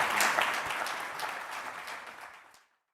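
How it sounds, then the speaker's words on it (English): Applause from a conference audience at a housing policy event, a dense wash of many hands clapping that fades out over about two and a half seconds, heard alone without talking. "Let's give them a round of applause."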